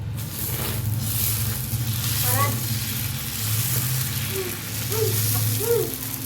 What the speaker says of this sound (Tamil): இப்போ வாங்க ஸ்கொயர் டைப்பில் தோசை ஊற்ற முடியுதான்னு ட்ரை பண்ணலாம்